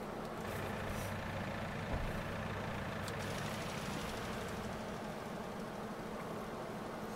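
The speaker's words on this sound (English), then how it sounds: "I like the fact that this New Holland doesn't sound like that Fent." A New Holland tractor engine idles in Farming Simulator 19, a steady low diesel rumble that holds evenly throughout with no speech.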